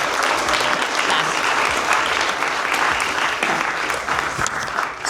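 A full room applauds an honoree at a Women of the Year ceremony with a dense, continuous roar of clapping, loud and steady for the whole stretch before easing slightly at the end.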